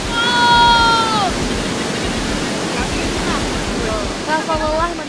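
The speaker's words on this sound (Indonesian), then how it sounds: "gue sampai di tujuan di air terjun Timbulun" Timbuluin waterfall near Painan pours as a steady broadband rush of falling water, close and loud, with bird-like or whistling tones sliding over it at the start and the end.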